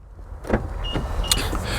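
BMW M3 Competition power window closing, a short electric motor whir from inside the car ending with a light thunk as the glass seats, close and clear with no talk.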